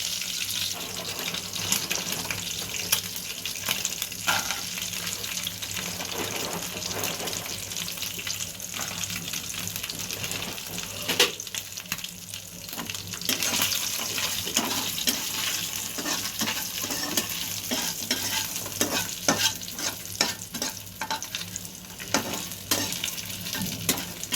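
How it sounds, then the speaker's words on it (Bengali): Bori lentil dumplings frying in oil in a pan on a home kitchen stove, a steady crackling sizzle with scattered sharp pops and stirring scrapes, close and continuous for over twenty seconds. "খানিকটা বড়ি ভেজে নেব।"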